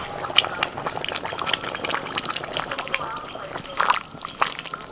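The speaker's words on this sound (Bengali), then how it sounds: "আলু অর্ধেক সিদ্ধ হয়ে গেছে এবার ভাজা কপি দিয়ে দিচ্ছি" Fried cauliflower drops into a pot of half-boiled potatoes for a home-cooked cauliflower dish, giving wet sloshing and splattering with scattered clinks, close by, while a person talks over it.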